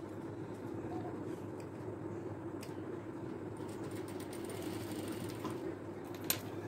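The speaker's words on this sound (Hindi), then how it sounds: "जहाँ पे वाइट कपड़ा बॉर्डर का है इसके साथ साथ में अब मैं इसको सिलाई करूंगी।" Sewing machine stitching along the white border fabric of a trouser, a steady, fairly quiet mechanical whir that runs throughout, with a small click near the end.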